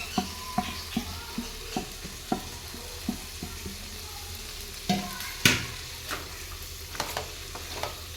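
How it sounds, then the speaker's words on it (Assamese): Carrots and meat sizzle in a hot pan while a utensil scrapes and stirs in irregular taps and clatters, close by, with no talking. "মাংসৰে সৈতে গাজৰখিনি ভাজিব লাগিব।"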